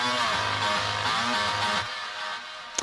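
A synthesized fake guitar layer sits over a deep bass line in an electronic track, a dense buzzy sustained tone over pulsing low notes that drop out near the end, loud and continuous with no voices.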